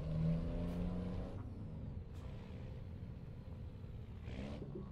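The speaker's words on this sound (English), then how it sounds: "My truck don't like going on this ground, does it? Revving its nuts off." A heavy truck engine in Euro Truck Simulator 2 revs hard while struggling over rough ground before hauling stone dust, a loud continuous rumbling drone with shifting pitch and no voices.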